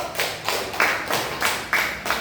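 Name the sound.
classroom clapping for a student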